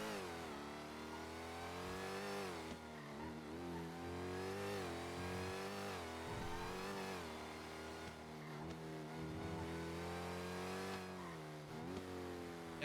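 An automatic car in a NoPixel 4.0 role-play video game accelerates, its engine note climbing and dropping in repeated waves of revving as gears shift, steady and close with no talk.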